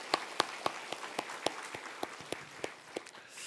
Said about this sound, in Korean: 우리 큰 박수로 환영해 주시기를 바랍니다.